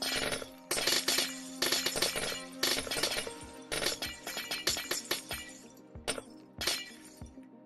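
Glass blocks shatter over and over in Minecraft, a dense run of bright crashing breaks that thins into scattered single smashes and clinks, loud and close with no talk.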